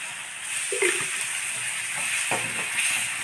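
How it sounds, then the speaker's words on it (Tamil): Half a ladle of water goes into a millet curry frying with tomato, bringing a steady hiss and sizzle with a few brief splashy bursts, close and fairly quiet. "அரை கரண்டி தண்ணி விட்டுக்கலாங்க"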